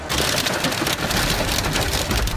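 Heavy pelting rain in an afternoon Sydney storm, a loud, dense hiss of drops battering surfaces continuously with no pauses and no voices.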